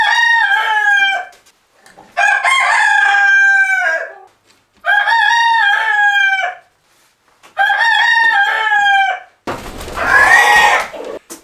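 A Rhode Island rooster on a farm crows loudly and close up in four long, repeated calls separated by short pauses, followed by a rougher burst of clucking.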